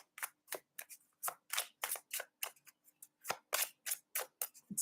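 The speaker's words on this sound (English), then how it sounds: "I shuffle the cards and similar cards come up to the last reading" Tarot cards are shuffled close to the microphone in a quick run of crisp riffling bursts with brief pauses between them, quiet and with no talking.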